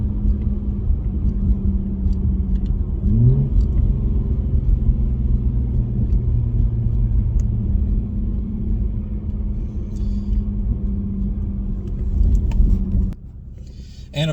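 A deep, rumbling V6 engine drone from a muffler-deleted 2016 Ford Mustang, heard from inside the cabin, steady and loud, with a brief drop near the end.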